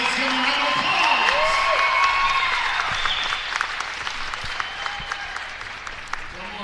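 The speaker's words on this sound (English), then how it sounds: "Let's give them a round of applause." An indoor basketball crowd at a conference championship applauds all-league players, sustained clapping and a few cheers that swell early and then thin into scattered claps, with an announcer's voice briefly under it.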